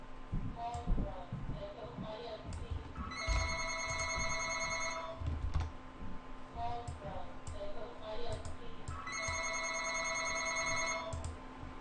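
A telephone rings in an office during an online mastermind session, two electronic ring bursts a few seconds apart over a steady background hum with faint room noise between them.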